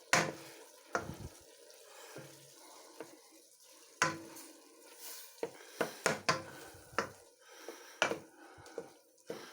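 Savoury rice browns in a pan with a dash of wine, with a faint, low sizzle beneath intermittent clacks and scrapes from a utensil stirring against the pan.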